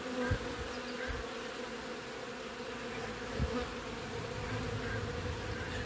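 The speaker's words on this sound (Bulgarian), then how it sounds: "Те се виждат, че не са техни пчели." Honeybees crowding at a hive entered by a small stray swarm, giving a continuous low, faint droning buzz with a couple of soft knocks.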